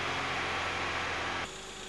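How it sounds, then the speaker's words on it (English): Volkswagen engine held at a steady 2500 RPM after warm-up, a loud, even mechanical drone and hiss that drops slightly in level near the end but keeps running without pause. "first warm up the engine and then run it at a speed of 2500 RPM for at least 1 minute."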